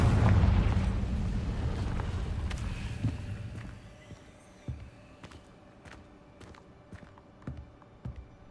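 A Confringo blasting spell bursts in Hogwarts Legacy with a loud opening boom that decays over a few seconds, followed by quieter scattered clicks and small impacts.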